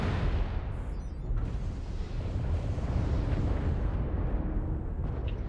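A sustained, heavy rumbling explosion as LRM missile ammunition detonates inside a battle mech in MechWarrior Online, loud and dense throughout with rolling low-end roar and no speech.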